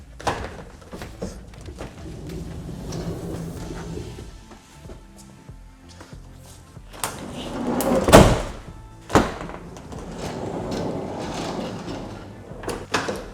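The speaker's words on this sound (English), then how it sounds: "When I shut this door, it better hide this step." Sliding door on a Ford Transit van rolls shut with a rumbling glide and a heavy thud near the middle, followed by a few rattles and clunks nearby.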